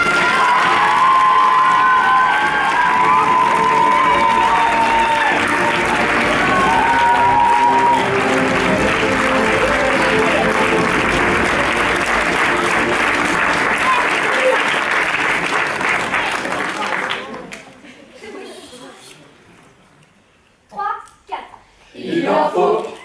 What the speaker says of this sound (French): Je vous demande de les accueillir sous une salve d'applaudissements